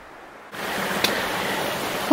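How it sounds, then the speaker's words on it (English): Steady broadband wind blowing across a mountain trail viewpoint, rising abruptly after a quiet start and then holding a constant rushing hiss with a brief gust or bump midway, loud and close with no talk. "The wind's kicked up a little bit, but it actually feels very refreshing."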